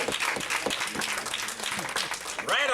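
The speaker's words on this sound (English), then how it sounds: "Actually, they was clapping for you, Freddie, when you came in." An audience at a convention applauds, with sustained clapping from a crowd under and between loud voices calling out.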